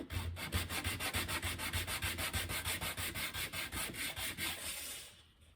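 Sandpaper rubbing back and forth to remove a small burr on a wooden acoustic guitar part, a steady close rhythm of about twenty quick strokes that stops near the end.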